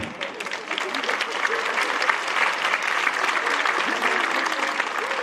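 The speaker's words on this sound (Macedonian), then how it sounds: "Одма, аплауз, браво, добро е." A comedy audience claps and cheers, a sustained wash of many hands with scattered voices and laughter mixed in throughout.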